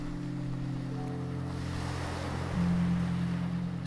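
Steady wash of ocean surf rolls on beneath a low, sustained musical drone, soft and continuous with a slight swell near the end, under a Spanish-language relaxation hypnosis.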